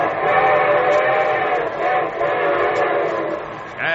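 A radio-show train sound effect rumbles steadily with layered whistle or horn tones sounding over the rolling clatter, fairly loud and continuous throughout.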